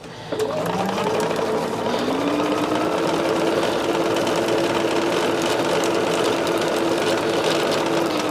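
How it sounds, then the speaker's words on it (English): Quilt block pieces, including a shark piece, being stitched on a domestic sewing machine, a steady continuous motor whir with a rising pitch as the needle runs along a line, close and loud without any talk. "And I'm sewing on that line."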